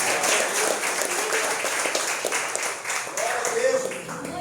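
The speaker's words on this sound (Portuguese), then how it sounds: "Que pode já aplaudir o Senhor" Church congregation at a Pentecostal service applauding, a sustained dense wash of clapping from many hands with voices calling out over it.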